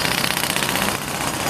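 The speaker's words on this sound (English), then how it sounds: "we got the jerk hammers going." Jackhammers pound at a construction site in Acapulco, producing a continuous rapid rattling that stays loud and steady throughout.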